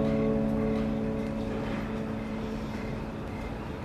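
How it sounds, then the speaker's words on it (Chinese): A motorcycle engine drones steadily nearby, a loud, continuous low rumble with a buzzing hum that eases off slightly toward the end. "这摩托车声这么大"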